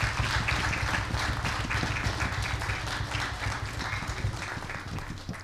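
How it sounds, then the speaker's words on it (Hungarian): An audience at a traditional folk heritage association's Advent gala applauds steadily, a dense, sustained clapping that fills the hall and tapers slightly toward the end. "Úgyhogy tapsoljuk meg őket most is!"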